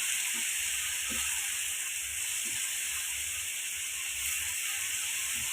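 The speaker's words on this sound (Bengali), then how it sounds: "আমি আলু ভাজতে থাকবো আর এই গুঁড়া মশলাগুলো আমি একটু অ্যাড করতে থাকতেছি একটু ভালো করে একটু আমি এটাকে একটু ভেজে নেয়" Potatoes frying in a pan with ground spices give a continuous, even sizzle and hiss, close by, with a few light clinks of a utensil against the pan.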